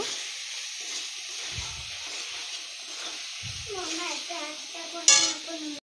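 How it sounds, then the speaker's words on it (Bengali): Chicken skin curry with ginger, garlic and spices being sautéed in a pan, with a soft steady sizzle and occasional scraping of a spatula, ending in a sharp metallic clink. "তা এইটা আমি হালকা একটুখানি কষিয়ে নেব।"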